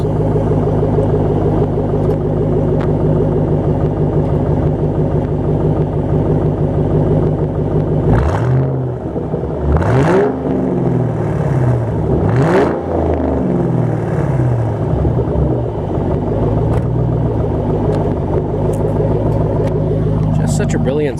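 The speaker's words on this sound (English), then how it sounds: "rev the engine a couple times" Roush Stage 1 2005 Ford Mustang engine with a loud steady idle rumble, then revved about three times in quick succession, each rev a surging roar that drops back to the idle.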